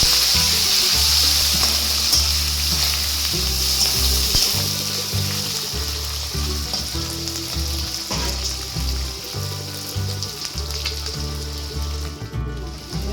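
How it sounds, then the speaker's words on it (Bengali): Dried fish sizzles in hot oil with slit green chillies in a pan, a loud continuous frying hiss that runs throughout beneath steady background music. "এবার এই শুকনো মাছটাকে দিয়ে দেবো, একটু ভেজে নেব।"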